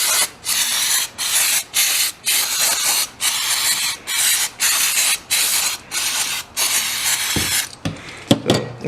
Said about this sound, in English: I'm just gonna use a little throttle choke cleaner